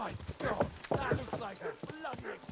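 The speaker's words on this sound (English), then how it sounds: "let's get off the horse" Horse hooves clip-clopping in Kingdom Come: Deliverance II, a rapid uneven run of close, sharp hoof strikes over a short span, with speech-like sounds mixed in.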